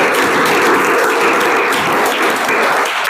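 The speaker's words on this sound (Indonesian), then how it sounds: "silakan tepuk tangan buat kita semuanya." Students in a classroom during a religious education lesson clap their hands together, a steady, dense patter of applause that fills the room throughout without anyone talking.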